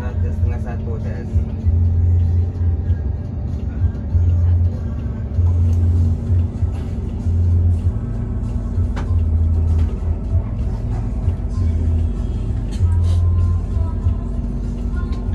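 A Primajasa intercity bus on the road between Bekasi and Bandung, heard from inside as a steady loud engine drone and road rumble that rises and falls with rhythmic swells, with a person talking over it.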